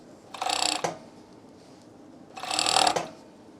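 A sewing machine stitches a seam on a sleeveless dog T-shirt in two short, close mechanical bursts of whirring and clattering, separated by a quiet pause.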